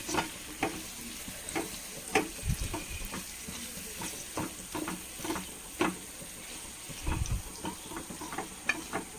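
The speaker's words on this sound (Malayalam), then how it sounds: "നന്നായി ഇളക്കി മിക്സ് ചെയ്യട്ടെ" Mango pickle for a sweet and sour achar is stirred in a pan, giving a soft continuous sizzle under irregular spoon scrapes and taps, some stronger knocks against the pan; quiet and close, with no speech.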